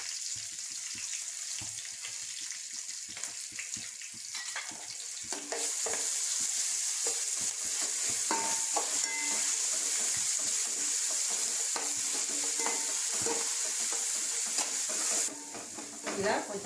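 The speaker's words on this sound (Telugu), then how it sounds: "ఇలా కొంచెం బాగా అల్లం వెల్లుల్లి పేస్ట్ బాగా పచ్చివాసన పోయేంత వరకు వేయించుకొని" Ginger garlic paste frying in oil for chicken fry piece biryani: a steady close sizzle that grows louder and denser after a few seconds, with light stirring scrapes, and no talk.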